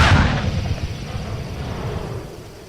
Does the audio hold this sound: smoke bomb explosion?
yes